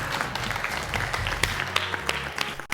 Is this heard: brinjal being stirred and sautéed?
no